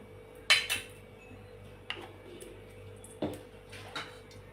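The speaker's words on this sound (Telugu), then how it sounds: "స్టవ్ ఆన్ చేసుకొని కళాయి పెట్టుకొని నెయ్యి అయితే వేసుకోవాలి." A pan set down on a stove, followed by ghee being added, giving a few sharp metallic clanks and light clinks spaced out over a quiet kitchen background, with no talking.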